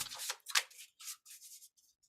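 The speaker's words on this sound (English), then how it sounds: "So I'm shuffling, but we're going to draw the top card." A deck of cards being shuffled by hand, with a quick series of soft, riffling and sliding bursts that pause briefly between them, close by and fairly quiet.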